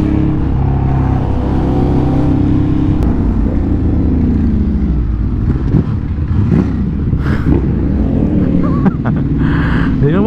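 Big bikes including a Ducati Streetfighter V4 S, a CF Moto 450 MT and an XSR 900 ride along Marcos Highway. Engines drone and rev loudly and continuously up close, with passing vehicles and a few brief voices mixed in.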